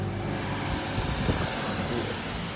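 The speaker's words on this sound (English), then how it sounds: "It's kind of loud at this point because this is the warm-up phase, and so that's kicked in the fan coil unit" A garage heater's fan coil unit, drawing heat from a boiler, runs during its warm-up phase with a steady, loud, broadband whoosh and low hum that stays constant throughout.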